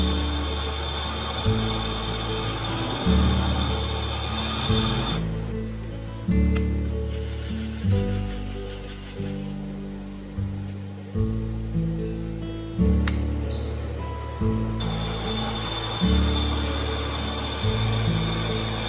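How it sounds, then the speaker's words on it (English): Valve guide tops being machined on a Porsche 912 cylinder head, a loud power tool running in repeated bursts with a steady grinding whine between short pauses, close and without talk. "we're going to machine the tops off our guides just like we do on a 911 head"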